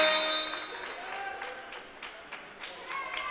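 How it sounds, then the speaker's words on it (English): Applause and cheering rise from the bench at a women's college basketball game between Trinity University and LeTourneau, moderate, irregular clapping bursts under a sustained arena hum, with voices in the background. "she will get a round of applause, standing ovation from her bench"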